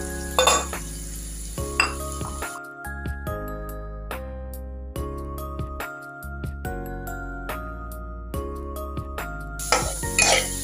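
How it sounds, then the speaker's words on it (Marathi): Carrots, peas and onion stirred and sautéed in a pan, with a few scraping and clinking strokes at the start and end beneath steady background music. "कांदा हे सर्व एकत्र आपण चांगलं परतवून घेऊया।"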